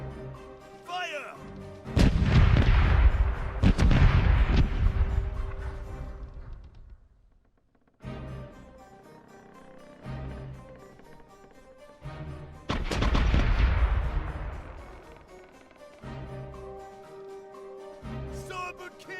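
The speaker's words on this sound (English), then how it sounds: "Starboard cannons are ready to fire!" Ship cannons fire in the Corsairs Legacy pirate game: two heavy booming broadsides, each a cluster of rapid blasts with long rumbling decay, the second coming after a quieter stretch of lighter shots and creaks.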